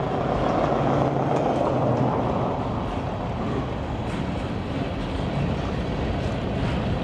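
A train at Waycross, Georgia gives off a loud, continuous rolling rumble with wind noise on the microphone, steady throughout and with no voices.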